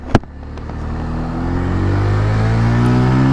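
A 2023 Bajaj Pulsar 125 motorcycle pulls away in first gear, its engine note climbing steadily in pitch as it accelerates, loud and close, with a sharp click at the start and no talk.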